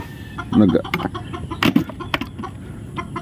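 Chickens cluck close by in short irregular bursts, with scattered rustling and a few sharper calls.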